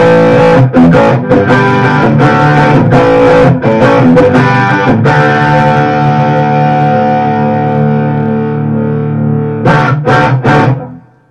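An electric guitar played through a stock Boss SD-1 overdrive pedal with silicon diodes, drive and tone at noon, rings out in loud crunchy chords and palm-muted strums, with a long sustained chord decaying before final stabs.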